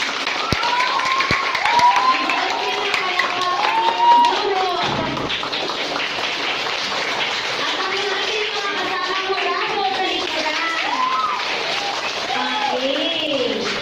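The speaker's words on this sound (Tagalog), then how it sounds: "atin silang bibigyan ng masigabong palakpak" An audience at a school debate gives the debaters a hearty round of applause. Dense, even clapping continues throughout, with voices and shouts mixed into the noise.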